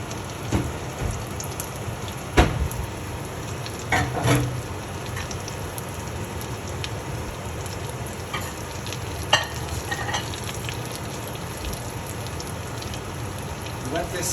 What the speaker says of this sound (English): Let this sear for a couple minutes